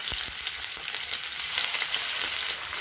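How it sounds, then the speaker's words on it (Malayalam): Steady, hissing sizzle of fish frying in hot oil, with crackles and pops throughout and no voices. "എണ്ണ ചൂടായി വന്നിട്ടുണ്ട് അപ്പോൾ നമുക്ക് ഓരോ മീനായിട്ട് ഇട്ട് കൊടുക്കാം"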